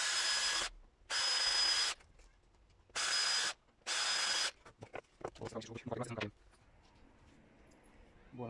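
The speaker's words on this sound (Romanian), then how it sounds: "să pot să dau două șuruburi centrate, dar cu atenție" Power drill driving screws into wood, in four loud bursts of about a second each with short pauses between, followed by quieter handling and rubbing sounds.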